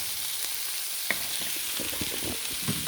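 Onion sizzling in a pan of hot oil with garlic, a steady soft frying hiss with a few faint clicks and stirring knocks, close but quiet.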